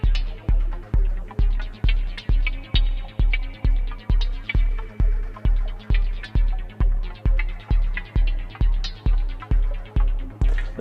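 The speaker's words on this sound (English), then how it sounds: "The sample and hold makes the randomness of that slappy sound." Rhythmic percussive synth hits from a modular analog synth with sample and hold randomness repeat steadily, about two per second, each a punchy slap with a low thump and varying bright edges, loud and alone.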